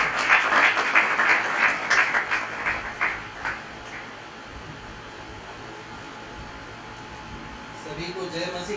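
An audience at a church dedication program in Nagpur breaks into applause, loud dense clapping for about four seconds that thins into a low murmur of room noise, with a voice briefly heard.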